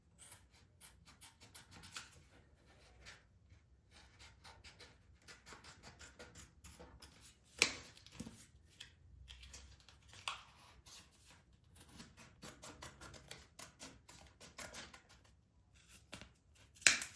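Snipping and rubbing as a pencil-marked template is cut along its line for fitting floor tile, steady close crackly strokes with a few sharper clicks, no voices.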